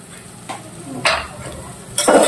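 Chopped onion sautéing in a pan, a soft steady sizzle broken by a few scraping stirs of a spoon against the metal, close and fairly loud.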